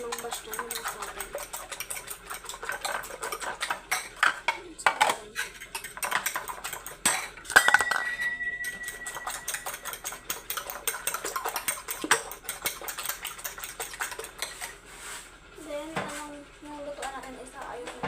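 A cooking pot and dishes being washed give off irregular metallic clinks, scrapes and clatters throughout, close and moderately loud, with a voice occasionally in the background.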